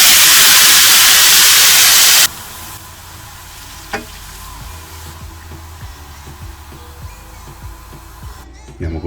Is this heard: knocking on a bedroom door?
no